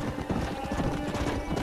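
A horse's hooves clip-clop with a brief neigh in the Western video game Red Dead Redemption, a short, close burst of rhythmic hoofbeats over a noisy background.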